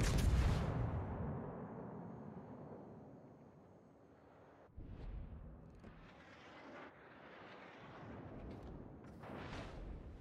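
Naval guns firing in World of Warships during a ship battle: a heavy booming salvo at the start rolls off into a long decaying rumble, followed by several quieter, more distant gun reports and whooshing shell sounds.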